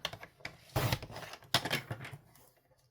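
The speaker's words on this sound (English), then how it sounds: "So I'm just going to trim a little bit off of the bottom." A paper trimmer slices a thin strip off a handmade greeting card, giving two short rasping strokes of the blade with soft rubbing handling in between, quiet and close.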